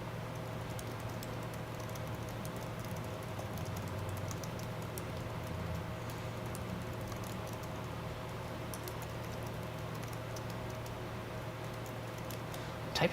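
Quiet, rapid typing on a computer keyboard patters along steadily under a constant background hum.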